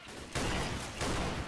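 Gunfire in the zombie shooter Left 4 Dead 2: two loud, dense bursts of shots, one right after the other, close and unaccompanied by talk.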